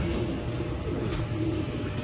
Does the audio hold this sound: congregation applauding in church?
no